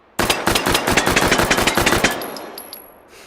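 Gunfire in the game Hot Dogs Horseshoes & Hand Grenades: a loud, close string of about twenty rapid shots lasting two seconds, then echoing decay and a few faint metallic clinks.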